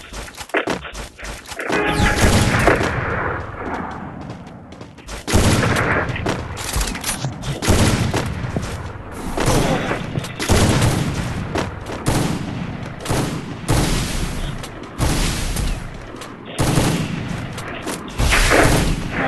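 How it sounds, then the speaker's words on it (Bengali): Rapid gunfire bursts from a video game shootout, with sniper rifles in use, crack and boom loudly and almost without pause, overlapping volleys filling the whole stretch with dense, continuous shooting. "ওরা মনে হয় স্নাইপার চালাচ্ছে"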